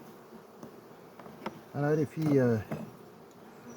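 Honeybees at an apiary hive hum in a faint, steady drone. Someone briefly speaks over the buzzing.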